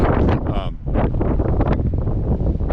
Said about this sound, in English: It's cold, it's windy